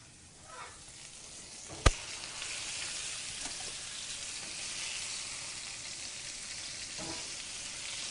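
Pork pieces brown in a pan for a pulled pork dish, a steady broadband sizzle holding throughout with one sharp click near the start and a few faint scrapes, no talking over it.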